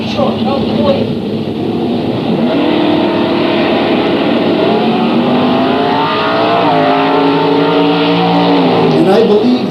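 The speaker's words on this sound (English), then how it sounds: "I believe that's Pauline's husband Bob's car, that blue Chevy there" A blue Chevy race car roars along the track at a corporate day event, its engine note climbing and shifting as other cars drone around it, loud and continuous with voices in the background.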